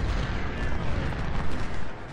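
Napoleon cannon fire in Ultimate General: Civil War at the Battle of Chantilly (Ox Hill), a dense rumbling barrage of booms blending into a continuous loud low roar.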